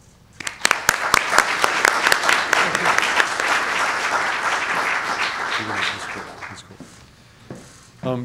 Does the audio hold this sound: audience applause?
yes